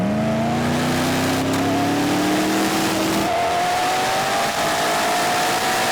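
A Koenigsegg Regera and an Agera RST launch side by side in a drag race, engines roaring loudly with rising gear-pulled whine, one note shifting abruptly midway as they accelerate hard, with a faint tire squeal.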